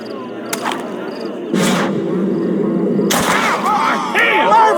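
Sharp gunshots ring out in a Western Red Dead Redemption standoff, a few distinct cracks spaced apart amid speech and raised voices.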